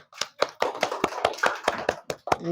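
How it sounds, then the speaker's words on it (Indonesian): Children in an Indonesian classroom clap their hands together in a steady rhythm of about ten sharp, close claps, a teacher's classroom cheer with no talking over it. "Tepuk tangan anak ibu semua."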